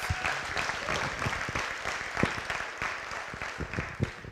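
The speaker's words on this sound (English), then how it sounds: "Again, a huge round of applause to our finalists." An audience at a young social entrepreneurs' pitch contest claps for the finalists, a dense, sustained round of sharp individual claps with a few louder hits standing out near the end.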